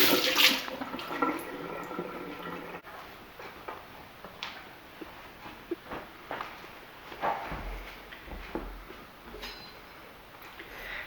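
Tap water running while two red peppers are washed at a kitchen sink, a close splashing and trickling with irregular handling knocks and rubbing, moderately quiet.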